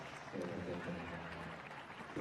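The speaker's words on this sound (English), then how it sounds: "Clap away quiet now. clap, quiet clap." Soft, quiet applause from a small crowd at a dressage day of horse trials, a thin patter of claps heard at a distance under a low murmur of voices.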